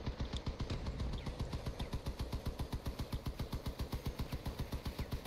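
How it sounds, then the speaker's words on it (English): Nonstop rapid gunfire from a vehicle-mounted weapon in the online car-combat game Crossout, a steady machine-gun rattle of evenly spaced bursts that never pauses, loud and close over a low engine rumble. "It just continues firing and cools instantly."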